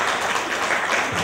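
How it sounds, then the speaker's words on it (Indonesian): Wedding guests applauding at a holy matrimony ceremony, a short, dense burst of many hands clapping close and loud, with no talk over it. "Ya, kita berikan tepuk tangan yang meriah."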